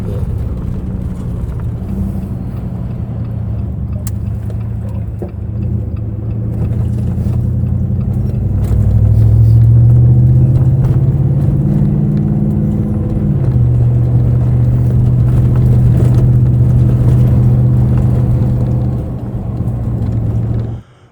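A 5.7 Hemi V8 swapped into a Jeep Gladiator drives on its first run, giving a steady, close low engine rumble that swells louder partway through and holds, with no talking.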